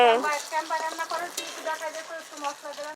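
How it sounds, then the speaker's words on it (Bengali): Chopped onion dropped into hot oil in a pan for a thin potato and mutton curry, a quiet steady sizzle with faint stirring all through. "আর তেলের উপরে দিয়ে দিলাম পেঁয়াজ কুচি"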